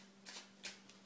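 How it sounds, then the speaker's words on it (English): A deck of playing cards being shuffled by hand, with three quick riffling bursts spread across a short moment, close and fairly quiet. "I'll start out by shuffling up the deck real quick"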